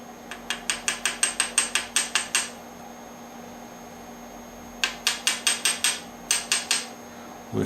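A copper drift taps a miniature M1911 mainspring housing part down into a vise, producing quick, bright metallic taps in rapid runs of about a dozen, then six, then four, close and crisp.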